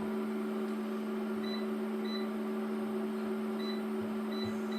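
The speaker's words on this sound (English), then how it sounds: "Now we're going to air fry it on the highest heat I can get, which is 205 for the air fryer" An air fryer running at its highest heat of 205 degrees gives a steady, moderately quiet hum and whir with a few faint, high electronic beeps. No one speaks.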